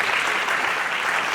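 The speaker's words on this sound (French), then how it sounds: "On peut applaudir un peu auprès de plus." A debate audience in a hall gives a short, dense burst of applause to thank the teams, the clapping loud and steady throughout.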